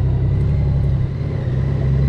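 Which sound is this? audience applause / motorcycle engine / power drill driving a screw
motorcycle engine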